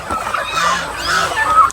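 Hens on a farm cluck and squawk in a steady overlapping chorus, close and moderately loud, with no talk.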